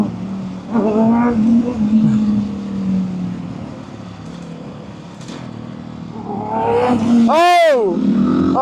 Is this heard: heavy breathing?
no